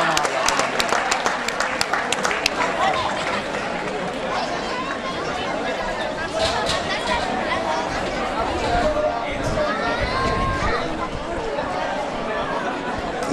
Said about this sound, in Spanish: Un fortísimo aplauso para la categoría local femenina.